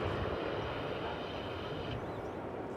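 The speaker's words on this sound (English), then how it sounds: "the arrival of a Dreamliner from Narita Airport" A Boeing 787-8 Dreamliner arriving at DFW Airport from Narita gives a steady distant jet engine roar, a broad rumble that holds evenly throughout.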